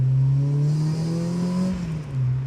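A supercharged 400 bhp Honda Civic Type R EP3 revs hard from close by, its raspy engine note climbing steadily, easing back briefly, then holding loud and strong, with no talking.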